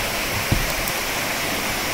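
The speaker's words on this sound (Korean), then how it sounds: "계곡길을 내려가면서 무엇보다 좋은 것은 너무나 맑고 경쾌한 물소리였고" Clear mountain stream water rushes and splashes steadily through a rocky valley in Seoraksan, a close, even, bright hiss with a small knock early on, no voices.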